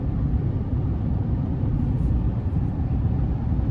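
A steady low road and engine drone fills the cabin of a 2024 Chevrolet Silverado Custom 2500HD Duramax pickup cruising on smooth pavement, constant and even throughout with no voices.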